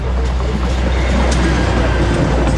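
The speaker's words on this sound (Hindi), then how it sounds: "रेलवे की रिलीफ क्रेन आ रही है जो स्लीपर्स वगैरह उठाने के काम आती है।" A railway relief crane train rolls along the track with a steady, loud rumble and rattle of wagons, with faint clicking from the rails beneath it.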